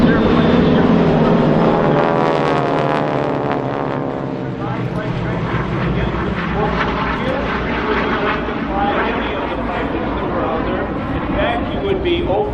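An airplane flies at the EAA AirVenture Oshkosh 2025 air show, a loud, steady engine roar with a sweeping pitch change as it passes nearby, while an announcer talks over it.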